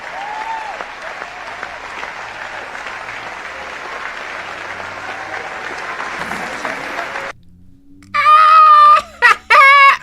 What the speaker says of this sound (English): It was the largest applause I've ever heard.